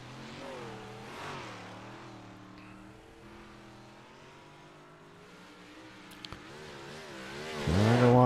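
Big block modified race cars running practice laps on an oval track, their engine drones rising and falling as they circle at a distance, swelling into a louder, closer roar at the end.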